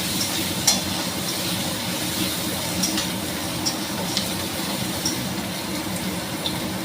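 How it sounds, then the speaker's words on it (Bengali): Onions fry in ghee in a pan on a gas stove, giving a steady close sizzle with faint stirring scrapes and a few light clinks throughout. "গ্যাসটা কমানো আছে একটু বাড়ালাম পেঁয়াজটা দিয়ে দিচ্ছি পেঁয়াজটা ভালো করে ভাজবো"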